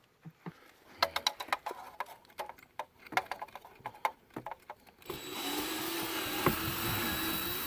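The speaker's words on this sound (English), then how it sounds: "I was then able to use the drill to easily seat the bolts on the head cover of the oil filter." Cordless drill seating bolts on the oil filter head cover of a Can-Am Outlander 570 ATV, heard as a series of short sharp clicks and taps followed by a steady, loud whirring run near the end.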